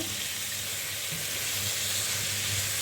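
Ginger sizzling in a hot frying pan as it is stirred, a steady close hiss of frying with soft scraping underneath, no talk.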